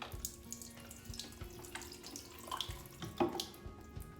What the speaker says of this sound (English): I think I'll give him a water, wait for that to drain, water him again,